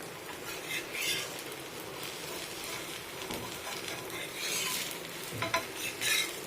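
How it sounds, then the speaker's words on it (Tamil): Killu vathal batter cooks in a pan with a little oil, giving a soft steady sizzle with occasional scraping and stirring sounds, fairly quiet and close, with no one speaking. "இதுக்கு லைட்டாக கொஞ்சம் எண்ணெய் விட்டுருங்க. லைட்டாக வேகட்டும்."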